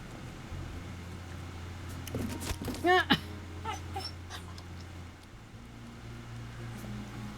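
In the video game Trüberbrook, a professor's cat gives a single short, rising and falling meow amid quiet background sounds, with people talking.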